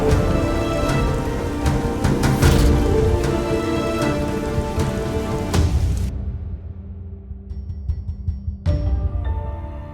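Steady rain falls outdoors, a dense continuous wash that holds for about six seconds before thinning abruptly, then a brief burst returns near the end; no voices are heard.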